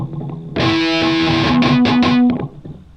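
Distorted electric guitar, for a song, strummed twice with ringing chords and then muted four times, the open sustain giving way to a quick cluster of short percussive chugs, close and moderately loud.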